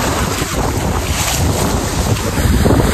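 A waterfall rushes with a loud, unbroken roar of falling water, mixed with gusty wind buffeting close to the microphone.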